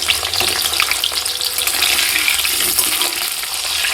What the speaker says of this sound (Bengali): আলুগুলো কিন্তু বেশ ভালো করে লাল লাল করে ভেজে নিতে হবে।